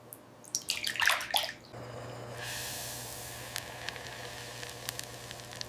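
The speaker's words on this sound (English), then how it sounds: "The butter is washed to remove impurities." Water running over butter as it is washed in a factory, a steady rushing wash after a short burst of splashing, with a constant machine hum in the background.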